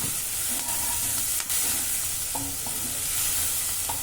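Four onions fry with a quarter spoon of salt in a pan, giving a loud, continuous bright sizzle, with a few soft utensil knocks against the pan.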